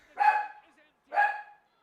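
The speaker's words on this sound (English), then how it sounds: "Oh, the dog's going crazy." A dog barks twice indoors, two sharp, fairly loud yelps about a second apart, with silence between them.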